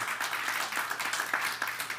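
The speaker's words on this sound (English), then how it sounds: "Give God a hand clap of praise." A church congregation claps in praise, a steady crowd applause with individual sharp claps standing out, continuous and moderately close.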